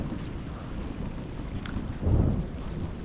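Hail and heavy rain pound a farm barn roof in a steady roar, with a low rumble of thunder swelling briefly near the end.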